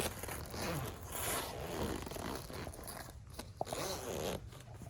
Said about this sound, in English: There's also a zipper on each side, so you'll go ahead and zip both of those up.